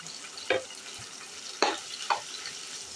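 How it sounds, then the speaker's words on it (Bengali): Chopped meat frying in a pan with onion and garlic: a soft, steady sizzle with three sharper spatula scrapes or stirs spaced across the stretch, no talking. "কেটে নিয়েছিলাম সেটা আমি পেঁয়াজ রসুনের সঙ্গে ভেজে নেব"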